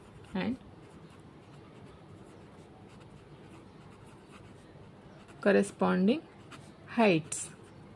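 Chalk or marker scrapes across a board during a geometry lesson in a few short, scratchy strokes, one early and a cluster near the end, with quiet room tone between.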